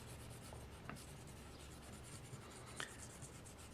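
A black colored pencil shading on paper: soft, steady scratchy rubbing strokes, close and quiet, with a couple of slightly sharper scrapes.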